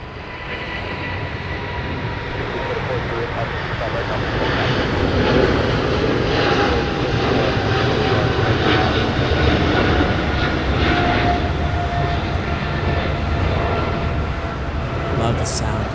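Roaring jet engines of a British Airways widebody taking off from LAX for London Heathrow, a loud sustained rumble that builds and holds, with voices faintly beneath.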